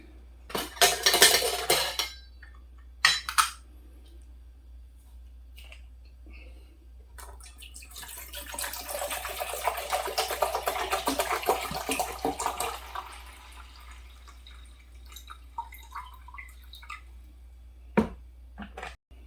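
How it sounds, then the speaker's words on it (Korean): Water being poured into a camping cookware pot, seven liters in all, with clattering metal at the start, then a steady pouring wash for several seconds that tapers to drips and small clinks, close and fairly quiet. "물 7리터를 부었습니다."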